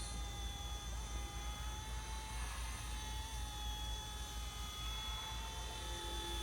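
A toy Hero Copter remote-control helicopter, with an extra tail rotor, flies outdoors, giving a steady high-pitched motor and rotor whine that runs on without a break. No one speaks.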